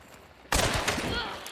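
A single sharp gunshot rings out in Hunt Showdown, a sudden loud blast followed by a ringing decay that lingers for about a second over low background ambience.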